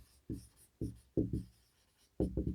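Chalk or marker strokes on a board during a thermodynamics lecture, four bursts of writing with short pauses between, close and fairly clear with no talk over it.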